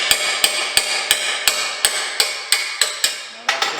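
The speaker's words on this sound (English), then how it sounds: "Where I want to put the first hits of the hammer through." Steady, evenly spaced hammer strikes ring sharply on a metal two-stroke dirt bike exhaust during dent repair, about ten blows in under four seconds, close and loud with no talking.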